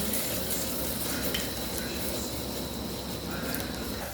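Dense, steady sizzling of an onion, cashew and green chili paste frying in hot oil, loud and close, with faint stirring sounds underneath.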